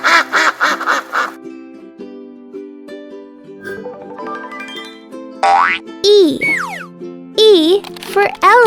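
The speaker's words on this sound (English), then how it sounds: "A duck sounds like this." Duck quacks in a quick rapid series at first, then further nasal quacks mixed with cartoonish boing and slide effects over music; a childlike voice-like quality runs through parts.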